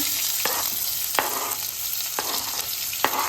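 Onion, chilli and garlic fry with cumin for paneer bhurji, sizzling steadily in a pan while a spoon scrapes and stirs four times at an even pace, close and fairly loud.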